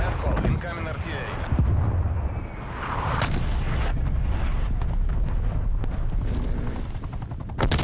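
Artillery barrage exploding in Call of Duty: Black Ops Cold War, a dense roar of booming blasts and crackling gunfire, with sharp bursts standing out near the third second and sustained loud rumble throughout.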